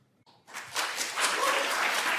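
An audience at a US Senate hearing breaks into applause after a short sound, the clapping swelling quickly into a dense, loud, sustained burst from many hands.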